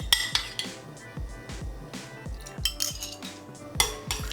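Utensil scraping and clinking against a bowl while powdered gelatin is mixed little by little into a no-bake keto cheesecake filling of Greek yogurt and mascarpone, with repeated close stirring taps and no talk.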